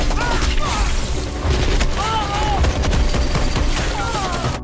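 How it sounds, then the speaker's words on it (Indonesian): Relentless gunfire from enemy forces rakes a chaotic battlefield in an Indian war film, dense and loud without pause, mixed with shouting voices and whistling tones. "keadaannya sangatlah kacau karena tembakan tidak ada henti-hentinya dari pihak lawan"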